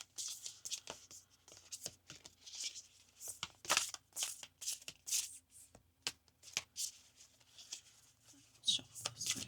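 A deck of angel cards is shuffled by hand in quick, uneven bursts of crisp riffling and sliding, close and fairly quiet, with short pauses between the bursts.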